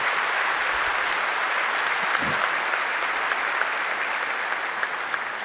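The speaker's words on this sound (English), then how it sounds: "let's give them a round of applause" Audience at the Black Hat USA 2018 keynote gives a sustained round of applause, a dense steady wash of clapping from a large crowd that fills the whole stretch at an even level.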